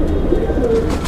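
Pigeon cooing close by in an evening loft setting, a brief soft low throaty coo rising out of a steady background murmur, with no speech.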